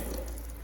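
Water drains from an O-Cedar EasyWring microfiber spin mop back into its bucket, a brief, soft, steady trickling splash heard up close.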